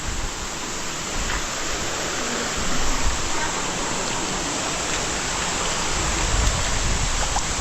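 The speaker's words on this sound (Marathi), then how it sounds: "मस्त की धबधबा भेटलाय." Steady, dense roar of a waterfall beside a foggy trekking trail up to Raigad fort, a continuous close wash of rushing water with no breaks.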